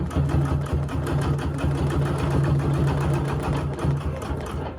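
Sewing machine free-motion quilting a Dresden quilt, its needle running in a steady, fast mechanical chatter with a low motor hum, close and continuous throughout with no talk.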